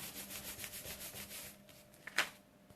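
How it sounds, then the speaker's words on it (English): Soft, steady rubbing strokes pass across the back of a still-damp card image, a faint close-up scuffing that ends with a single sharper tap. "rather than rubbing across the actual image itself, because it's still a bit damp, I'm just going to rub across the back"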